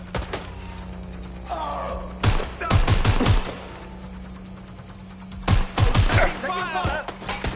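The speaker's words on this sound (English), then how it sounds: "Gunfire!" Two rapid bursts of gunfire crack out several seconds apart in the video game Watch Dogs: Legion, loud and close, with voices briefly heard between them.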